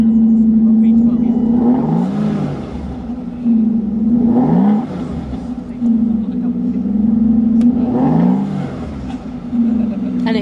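Aston Martin V12 Vantage engine, started with a push-in starter instead of a key, settles to a loud steady idle and is blipped in three rising revs spaced a few seconds apart. A voice speaks over it.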